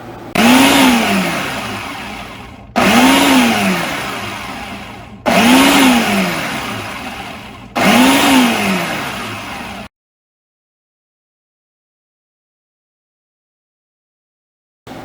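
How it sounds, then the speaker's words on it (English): A food processor chopping garlic, cilantro and jalapeno peppers for garden salsa, four loud close pulses of whining motor, each about two seconds long with the pitch rising and falling, then silence. "Right now in the food processor I have my garlic and cilantro."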